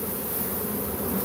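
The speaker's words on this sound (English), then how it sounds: "get the sun with the bees flying around" A dense swarm of bees buzzes steadily, close and loud, a continuous droning hum with no pauses or talk.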